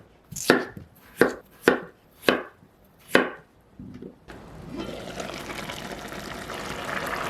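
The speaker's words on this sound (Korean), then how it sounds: "껍질 벗긴 감자는 먹기 좋은 크기로 썰어줄게요" Peeled potatoes are chopped into bite-size pieces on a board, five sharp, evenly spaced knife strikes close up, followed by a steady wash of running or pouring liquid.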